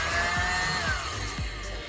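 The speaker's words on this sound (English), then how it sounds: "I have a little mini blower." A mini leaf blower pushes paint across a canvas with a steady close whirring motor hum and faint periodic pulses, running continuously throughout.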